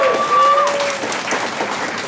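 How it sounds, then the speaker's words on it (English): Audience applause for school soloists who composed their own pieces: a steady, fairly loud burst of clapping from a crowd, with a brief sustained musical tone at the start. "let's give them another round of applause"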